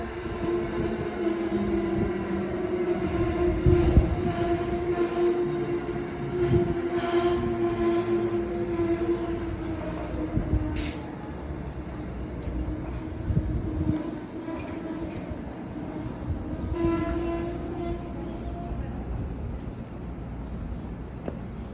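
An Amtrak train rolls through New Carrollton station, its steady rumble and rail noise holding throughout with tonal wheel hum and brief squeals, close and continuous.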